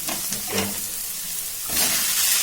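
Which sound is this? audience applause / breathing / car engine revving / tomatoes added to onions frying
tomatoes added to onions frying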